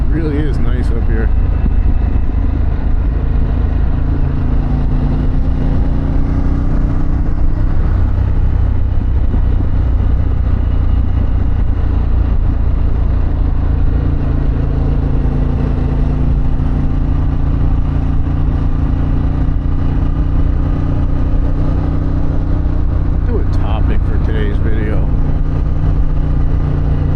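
Harley-Davidson Pan America motorcycle fitted with a Vance exhaust drones steadily at cruising speed, a loud, continuous engine rumble with wind noise that barely changes across the ride, with a faint voice underneath.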